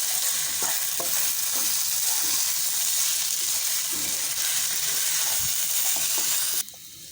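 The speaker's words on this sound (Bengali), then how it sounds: "এখন আমি এটাকে ভালো করে ভেজে নেব" Polao rice with salt and ginger paste frying in a pan makes a continuous loud sizzle with soft scraping stirs, close by, ending in a sudden drop near the end.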